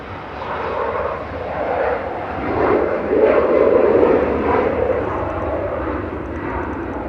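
An airliner lands at Manchester Airport with reverse thrust engaged, a loud broad engine roar that swells to a peak midway and then slowly eases off, heard from a distance with no talking.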